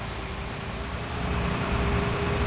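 A bus engine in the Bus Simulator Indonesia game hums in a steady low idle rumble with a faint constant whine, spread over broad hiss and swelling slightly louder toward the end.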